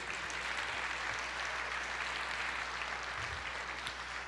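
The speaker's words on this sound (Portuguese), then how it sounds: "Você pode aplaudir o Senhor" Congregation applauding at an Easter church service, a steady, even wash of many hands clapping that runs the whole time at moderate distance, with no voices rising above it.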